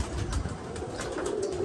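Pigeons coo softly amid rustling and background noise in a short, continuous stretch.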